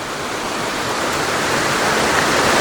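Steady rushing of water pouring from pipes into a natural pool on Camiguin, a dense, loud wash of splashing that holds constant and swells slightly, with no voices.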